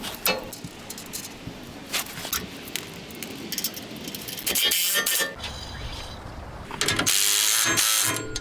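Ratchet clicks and metallic mechanical sounds while tightening steering link bolts on an 80 Series Land Cruiser, in bursts with pauses and a few louder clanks near the end.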